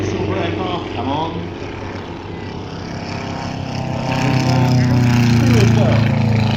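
A propeller aircraft making a display flypast at an airshow at East Kirkby, its droning engine note rising and swelling toward the end, heard beneath a commentator's voice over loudspeakers.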